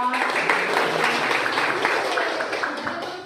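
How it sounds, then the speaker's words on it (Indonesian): A classroom of children claps together, a dense, continuous patter of applause that tapers slightly at the end. "Silakan tepuk tangan untuk Mbak Isa."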